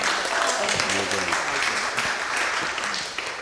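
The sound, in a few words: audience applause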